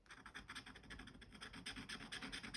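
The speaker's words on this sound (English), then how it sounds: "Where I've scratched it with the palette knife" A palette knife scratches and scrapes through paint on an abstract artwork in a steady series of close, raspy strokes, quiet and unaccompanied.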